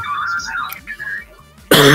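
A single sharp cough bursts out near the end, loud and close to the microphone, after a stretch of quieter background game sound.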